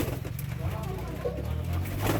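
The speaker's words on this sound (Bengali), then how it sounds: "গররা কবুতর আছে" Gola pigeons, including a yellow female, cooing at a bird seller's in Bagharpara, Jashore: low soft coos under a steady background hum, with a person's voice faintly present.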